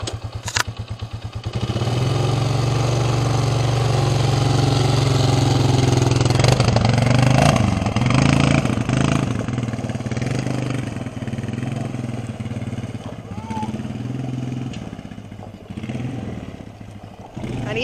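A four-wheeler ATV engine runs steadily during a ride, loud and close, its mid-pitched drone rising and falling with the throttle, with some rattling over it.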